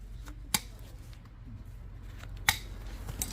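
Scissors snip tree branches, two or three sharp, close clicks spaced apart against a quiet, low background.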